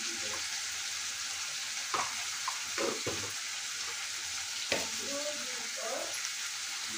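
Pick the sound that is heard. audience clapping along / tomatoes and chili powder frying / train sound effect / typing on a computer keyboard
tomatoes and chili powder frying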